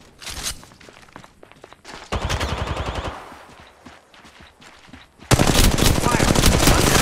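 Rapid automatic gunfire in Apex Legends Mobile, close and loud, first in short irregular shots and then a sustained rattling burst, ending in a dense, loud stretch of continuous fire and action.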